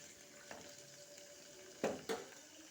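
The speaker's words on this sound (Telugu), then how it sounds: "చూడండి ఇలా మంచిగా కలుపుకుంటూనే ఉండాలన్నమాట" Tomato and capsicum curry is stirred in a pan, with a faint low sizzle and a few soft spoon scrapes and knocks, two of them louder near the end.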